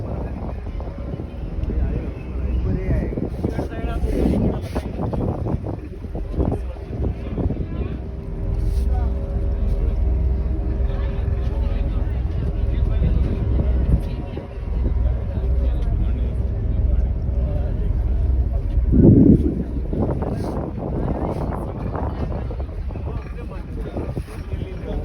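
A boat ride at sea off Goa, with a steady engine drone and wind buffeting the microphone throughout, and people talking over the noise.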